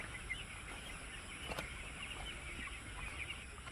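Broiler chicks in a poultry farm at night chirp faintly in a thin, continuous chatter over a steady background hum, with no speech.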